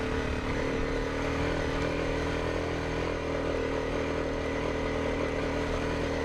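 A dirt bike engine labours up a steep trail climb, a loud, steady droning rumble held close by with slight shifts in pitch throughout and no voices.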